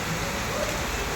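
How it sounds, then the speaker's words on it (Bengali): Heavy rain pouring steadily close by, a dense even hiss across the whole short stretch with no talk over it. "ভীষণ বৃষ্টি"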